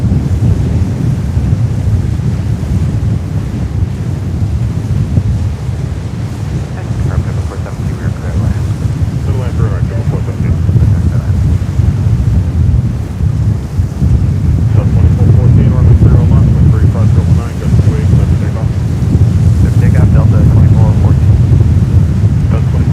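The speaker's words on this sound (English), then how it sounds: "Heavy wind at the moment, really extreme." Extreme heavy wind at JFK airport roars loudly and continuously against the microphone, a dense low rumble that swells stronger toward the end, with no clear voices.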